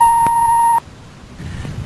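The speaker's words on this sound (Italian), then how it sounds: "Parlate pure dopo il segnale acustico." Answering machine beep: one loud, steady electronic tone lasting under a second, followed by faint room hiss and a soft rustle.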